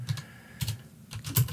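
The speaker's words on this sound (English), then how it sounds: "Please ignore my bad typing." Quick bursts of keystrokes on a computer keyboard, close and clear, with short irregular clusters of taps separated by brief pauses.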